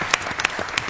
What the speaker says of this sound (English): a round of applause to you guys for what you did for them